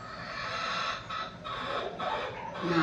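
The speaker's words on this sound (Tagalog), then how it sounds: "Sobrang dami talaga dito manok." Chickens cluck and call in short bursts at a moderate distance, over a steady background hiss.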